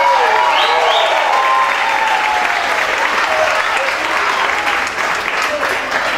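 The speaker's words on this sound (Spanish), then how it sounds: "por favor, un aplauso" Loud, steady audience applause at an album launch concert, with whoops and whistles over sustained clapping as band members are introduced on stage.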